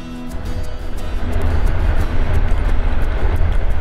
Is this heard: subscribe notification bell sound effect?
no